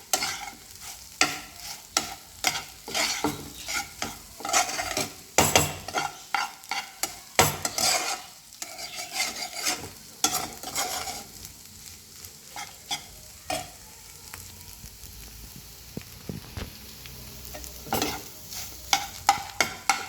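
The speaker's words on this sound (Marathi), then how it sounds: "आपण असं त्याला थोडंसं प्रेस करत करत भुर्जी आपली शिजवायची" Butter anda bhurji fries in a pan, with a spatula pressing and stirring the scrambled egg in quick, uneven bursts of scraping and clatter over a constant sizzle, close by and without talk.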